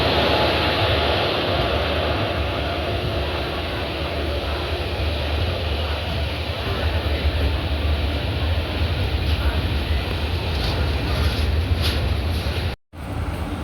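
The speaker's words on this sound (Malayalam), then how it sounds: "പ്ലാറ്റ്ഫോം നമ്പർ ടൂവിലേക്കാണ് ട്രെയിൻ വന്നത്" Swarna Jayanti Express behind a WAP-4 electric locomotive pulling into a platform at Thiruvananthapuram Central, a loud continuous rumble and rolling roar close by that holds steady before cutting out abruptly near the end.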